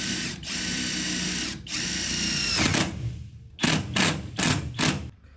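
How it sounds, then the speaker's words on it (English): Power drill pre-drilling a hole for a roller shade bracket on a roof profile: two long whining bursts, then four short rapid pulses, loud and close. "Right now he's pre-drilling just to get a pre-formed hole."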